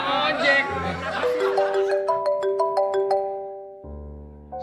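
A phone ringtone plays as a bright melodic jingle of repeated rising tones on an Indonesian comedy variety show, loud and close, following laughter and chatter at the start and ending with a low buzz.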